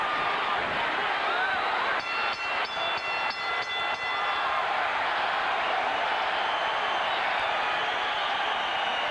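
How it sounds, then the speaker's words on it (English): A boxing crowd at a Hopkins vs Daniels fight roars and cheers steadily, a loud, dense wash of noise with a brief run of rhythmic pulses early on. "The crowd comes alive."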